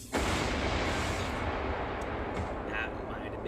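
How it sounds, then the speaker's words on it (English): An explosion in an animated Batman episode, Two-Face Part 1, bursts out as a sudden loud blast that rolls into a long, fading rumble. "An explosion."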